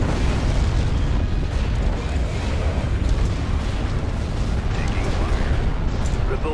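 A salvo of missiles explodes in a Star Wars strategy video game, a continuous heavy rumble of overlapping booms and blasts that stays loud and dense from start to finish.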